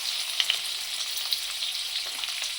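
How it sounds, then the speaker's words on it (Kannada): Onions frying in hot oil, a bright continuous hiss and crackle with a few louder pops, close and steady throughout, with no talking. "ಈಗ ಈರುಳ್ಳಿ ಹಾಕ್ಕೊಳ್ಳೋಣ. ಹುಷಾರಾಗಿ ಹಾಕ್ಕೋಬೇಕು. ಎಣ್ಣೆ ಕಾದಿರುತ್ತಲ್ವ, ಮುಖಕ್ಕೆ ಸಿಡ್ಬಿಡುತ್ತೆ."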